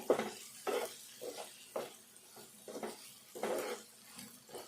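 Vegetables frying in a pan while being stirred, with a run of bursts of sizzling and scraping that rise and fall in an uneven rhythm, close and moderately quiet, with no voices.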